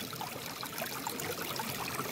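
Cold, clear stream water flowing down from the hills in a forested hill area of Netrokona, a steady close rushing and trickling throughout with no voices over it.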